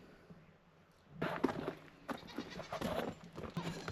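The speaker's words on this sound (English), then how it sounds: "come here, goats. Oh, there's the baby goats." Goats and baby goats bleat several times on a farm, fairly close, with scattered rustling and movement around them; short overlapping calls after a quiet start.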